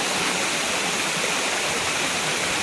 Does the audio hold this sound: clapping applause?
no